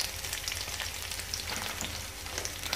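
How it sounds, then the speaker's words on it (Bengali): Chopped onions poured into hot oil for a rohu fish bhuna, sizzling and crackling steadily at close range with no voices over it. "পেঁয়াজ কুচিগুলো ঢেলে দিলাম"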